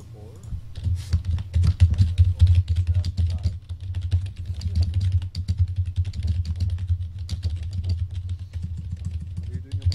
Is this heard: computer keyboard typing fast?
yes